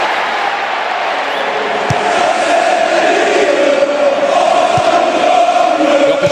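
Steady stadium crowd roar from the PES6 football video game, a broad continuous wash of massed voices that swells slightly and holds loud throughout, with a couple of sharp thuds standing out.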